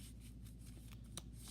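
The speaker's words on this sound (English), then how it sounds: "and then again the deck is shuffled." A Yu-Gi-Oh! card deck being shuffled close up, a quiet run of soft riffling flicks and papery rustles with one sharper snap near the end.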